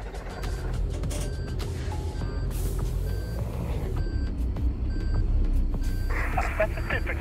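A heavy truck in the Euro Truck Simulator 2 video game reverses, its high electronic beeps repeating at an even pace over a low engine rumble, while people talk over it.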